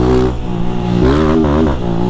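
A 160 motorcycle engine revs at high RPM while the clutch is worked in rhythm. Loud and close, the pitch drops, then swoops back up in a wavering, melodic rise and fall.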